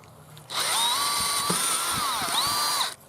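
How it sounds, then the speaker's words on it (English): A power drill bores a hole beneath the pan of a mouse trap, a loud steady whine lasting a few seconds with pitch dips as the bit bites, then cutting off abruptly. "drill a hole under your pan"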